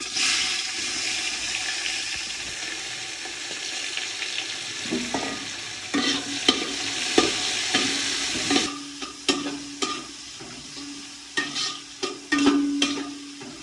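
Onion frying in a pan for a fish-head muri ghonto, a continuous hissing sizzle at first, then repeated clinks and scrapes of stirring over the frying.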